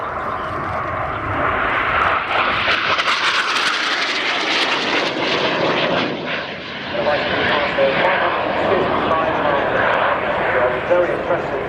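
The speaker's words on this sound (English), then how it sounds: "Very impressive, such a small aircraft, the scale of it makes it look as if it's going a hell of a lot faster" A small military jet roars past at an air display, a loud continuous engine sound that swells and holds steady with a brief dip midway, with crowd noise and talk mixed underneath.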